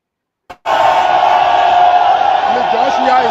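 Huge crowd at a Unity Party rally roaring and cheering loudly and continuously after a brief click, with whoops and shouts rising over the dense wash of voices.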